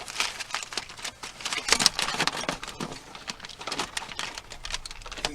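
Foil wrapped around baby back ribs is peeled open, making close, irregular crinkling and crackling bursts that rise and fall over several seconds with no talking.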